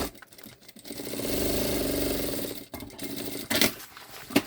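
An electric sewing machine runs a seam on a synthetic backpack, a fast mechanical buzzing whir lasting a couple of seconds, close by, with a brief restart near the end.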